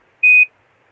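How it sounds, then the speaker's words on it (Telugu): A single steady electronic beep from an automatic hair curler, clean and fairly loud, lasting about a quarter second in an otherwise quiet room. "మీకు బీప్ వినిపిస్తుంది కదా"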